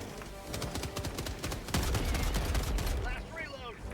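Rapid gunfire bursts from the video game Helldivers crackle in dense, close volleys, with a voice briefly heard near the end.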